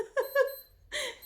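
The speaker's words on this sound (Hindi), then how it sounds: "अलार्म भी बजना शुरू हो गया घड़ी का" An alarm clock going off indoors, two short beeping chirps followed by a brighter burst, fairly faint and alone with no talking.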